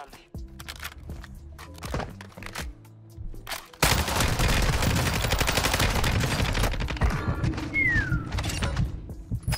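VEL 46 submachine gun firing in Call of Duty Modern Warfare II, with scattered game noises and a short burst at first, then a long, dense stretch of rapid automatic fire and chaotic battle sounds mixed with gameplay effects.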